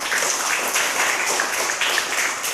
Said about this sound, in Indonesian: Ayo, mari kita tepuk tangan.